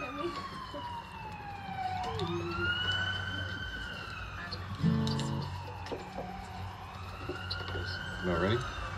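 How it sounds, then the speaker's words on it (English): Police sirens wail past outdoors at an open-air gazebo concert, rising and falling in long sweeping tones over steady traffic rumble, with a voice speaking briefly underneath. "We'll let the sirens pass."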